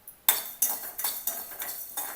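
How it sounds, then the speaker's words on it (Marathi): Dry seeds rattle and scrape around a hot wok in quick, regular spatula strokes, close up, with no voices. "कढईमध्ये धने भाजून घेणार आहे"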